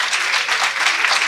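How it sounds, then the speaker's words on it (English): Dense applause from an audience thanking a panel at a workforce safeguards masterclass, a brief, even burst of many hands clapping at once. "If we could give a panel a round of applause"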